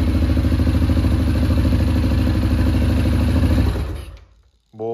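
Suzuki KingQuad 750 ATV engine idling after a start, a loud steady clattering thrum close by that cuts off abruptly near the end, followed by a short rumble.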